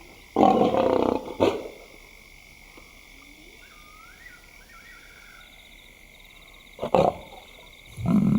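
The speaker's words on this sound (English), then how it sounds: "the youngsters have heard her call and they meet halfway" A lioness calls to her cubs in the African wild with deep, moderately loud roaring grunts in separate bursts, with quieter moments of ambient wildlife sounds between them.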